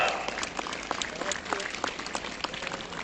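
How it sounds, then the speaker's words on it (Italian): A procession crowd for the Madonna del Vaiolo at Taglio di Po claps for the band, scattered mid-distance applause with individual claps standing out, under a faint voice. "Diamo un bel applauso alla nostra banda."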